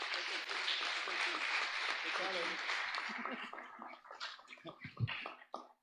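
A church congregation breaks into dense applause during a service. The clapping fills the first few seconds, then thins into scattered claps as voices rise beneath it.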